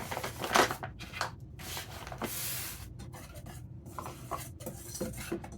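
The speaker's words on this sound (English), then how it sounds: "I'm just going to whisk that together, and there's your self-rising flour." A whisk stirring self-rising flour in a bowl, giving a run of soft scraping and rubbing strokes with light clinks against the bowl, close up and alone, the strokes uneven in rhythm.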